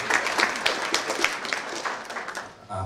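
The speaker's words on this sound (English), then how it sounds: "A round of applause for her." Audience applause at a live-streamed ceremony honouring lecturers, a steady patter of many hands clapping at moderate distance for almost three seconds, then a short low thump as it fades.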